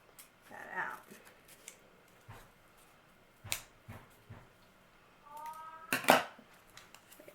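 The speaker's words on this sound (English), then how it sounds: "Let's cut that out." Scissors cut through folded paper to make a snowflake, giving sparse, irregular crisp snips and rustles at close range with quiet gaps between cuts.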